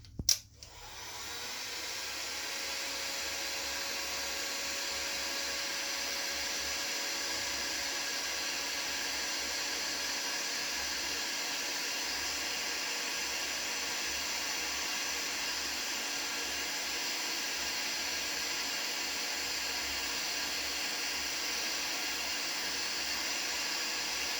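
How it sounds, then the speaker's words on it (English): Heat gun blowing on wet ceramic glaze: a click, then a steady, close, loud rushing hiss that holds unbroken for over twenty seconds. "I'm just going to give this a blast with a heat gun"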